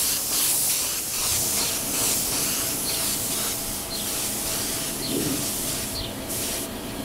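A spray gun lays coats of paint on motorcycle bodywork for Kawasaki, Suzuki, Bimota and Honda NS250 machines, giving a loud, steady airy hiss that pulses slightly with each pass, with no talk.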